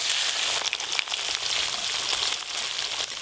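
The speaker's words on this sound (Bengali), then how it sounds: "এই যে এইগুলো একবারে ভেজে নেব" Amudi fish pakoras frying in hot oil, a dense, steady crackling sizzle that fills the whole stretch with scattered sharper pops, close and fairly loud with no talking.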